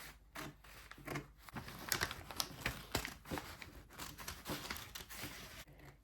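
Scissors snip through fabric along a marked armhole line while a square neckline is cut, giving a quick run of crisp, close cuts with short pauses between strokes and no talking.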